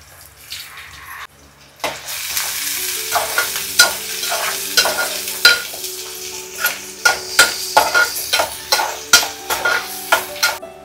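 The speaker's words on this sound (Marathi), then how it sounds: "कांदा करपवत ठेवलाय थोडासा." Onion fries in a pan, a loud hissing sizzle that starts after a brief quiet moment, then rhythmic stirring scrapes repeat every second or so, close by with no voices.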